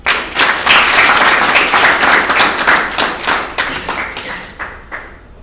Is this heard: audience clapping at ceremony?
yes